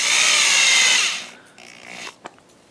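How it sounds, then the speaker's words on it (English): A power drill drives a screw into a rubber lug on a shoe sole for ice traction, a loud whirring burst about a second long that stops abruptly, followed by faint clicks and handling sounds. "So you want to get a screw in each and every lug."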